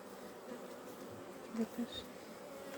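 Honeybees buzz around a hive in a low, steady drone with a few louder passes close by, under quiet, brief speech.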